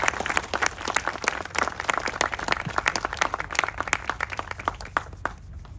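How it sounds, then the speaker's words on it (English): An audience claps for the staff of a county clerk-recorder elections office at a new office opening, a continuous burst of applause that holds steady before thinning out near the end. "join me in thanking and giving a round of applause to all the members of the County Clerk Recorder Elections Office"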